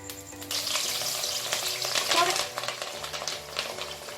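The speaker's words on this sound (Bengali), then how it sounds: "এত ফাটছে, সম্ভবত জল ছিল" Beans, carrot, capsicum, chopped ginger and chili hitting hot oil together, spluttering and crackling loudly up close as damp vegetables fry, with sharp pops over a dense sizzle.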